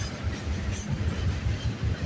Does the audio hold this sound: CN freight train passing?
yes